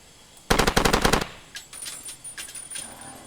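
A rapid burst of machine-gun fire in the video game Far Cry 2, about a dozen sharp shots in quick succession, followed by scattered fainter shots and clinks.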